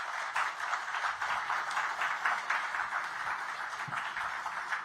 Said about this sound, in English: Please, another round of applause for our Honourable Minister.